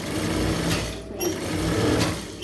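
Sewing machine stitching a canvas border onto a star-shaped neckline, a steady fast mechanical whirr of needle strokes running continuously at close range with a brief dip midway.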